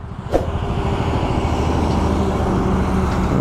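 Steady rumble of heavy road traffic, a front-engined lorry droning nearby with a continuous low roar throughout.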